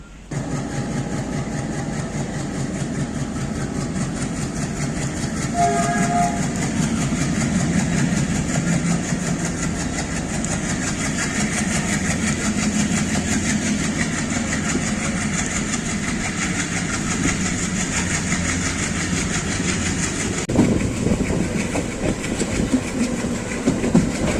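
An express train running slowly on a caution order through the East Delta line in Tamil Nadu gives a steady, loud rumble with wheel clatter and engine drone throughout, heard alone from on board.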